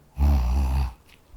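A person imitates nasal snoring, making one loud, low, rumbling inhale that lasts under a second and then stops, alone and close.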